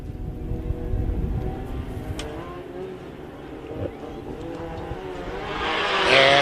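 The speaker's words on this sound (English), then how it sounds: "I heard acceleration before I saw a flag" Desert buggies, Limited Buggy and 1600 class, accelerate off the line at a short course race start; a steady, distant engine drone rises and swells toward the end, with crowd and track noise around it.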